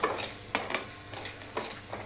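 A ground spice paste for a green bean curry is stirred in a hot pan, with repeated scraping strokes of the spoon over a light sizzle, close and fairly quiet.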